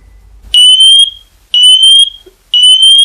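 A smoke detector test alarm sounds at full volume in three loud, piercing one-second beeps spaced evenly about a second apart, close and alone.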